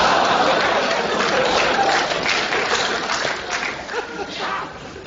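A comedy show audience claps and applauds, a dense, steady wash of many hands that slowly thins toward the end, with some laughter and crowd chatter mixed in.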